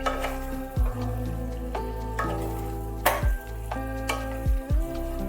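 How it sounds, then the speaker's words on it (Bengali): Boiled, peeled potatoes are stirred in a frying pan, a steady frying hiss broken by several loud scraping and clanking strokes of the spoon against the pan; no one speaks. "খোলা ছাড়িয়ে রাখা সেদ্ধ আলু এর মধ্যে দিয়ে দিতে হবে। দিয়ে ভালোভাবে নাড়াচাড়া করতে হবে।"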